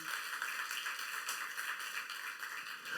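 A church congregation at a youth-group sermon applauding together: faint, fast, even clapping that keeps going steadily with no voices over it.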